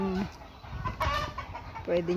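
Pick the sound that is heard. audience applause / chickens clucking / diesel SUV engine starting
chickens clucking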